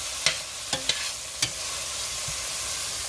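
Butter melting in a pan over lowered heat while being stirred, with a faint steady sizzle and a few sharp utensil scrapes and taps against the pan, close by.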